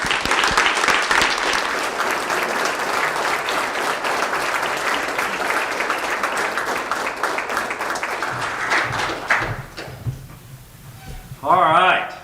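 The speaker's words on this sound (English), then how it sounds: "Ladies and gentlemen, please give a Falcon round of applause for President Chuck." Audience at a university Day of Giving event gives a sustained, loud round of applause with cheering, filling most of the clip before fading, followed by a brief burst of talk near the end.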